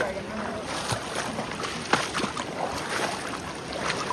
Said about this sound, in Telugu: నెక్స్ట్ రివర్ అయితే క్రాస్ చేస్తున్నాం.